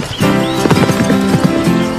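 A cartoon horse neighs with loud tonal whinnying layered over rapid clip-clopping hoofbeats, close and prominent for about two seconds.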